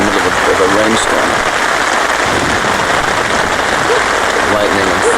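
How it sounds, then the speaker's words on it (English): Heavy rain drums steadily on a tent, a dense continuous patter close by with no pauses. "it's pouring with rain"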